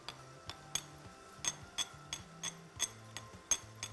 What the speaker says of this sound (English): you want to make it into a slurry and just mix that through just to get rid of any lumps